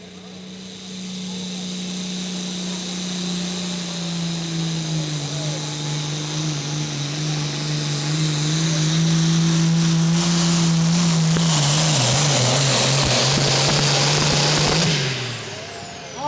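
International tractor called the Ridge Runner, from Hornsby, Tennessee, roars down the track at a 2024 tractor pull in Hillsboro, its loud, sustained engine drone climbing in strength and wavering before cutting off abruptly near the end.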